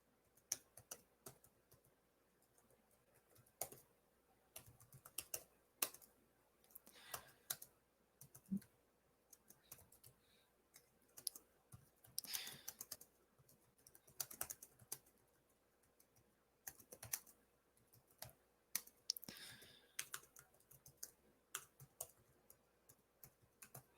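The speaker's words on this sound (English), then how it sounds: "Typing is hard." Quiet, irregular tapping of fingers on a computer keyboard, with bursts of keystrokes and clicks separated by pauses over about twenty seconds.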